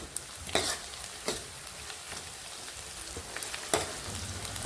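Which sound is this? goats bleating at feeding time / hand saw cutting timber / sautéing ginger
sautéing ginger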